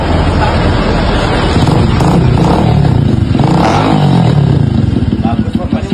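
An old, worn-out motorcycle engine revs loudly and continuously in a repair shop, with a rough clattering tone and voices talking over it throughout.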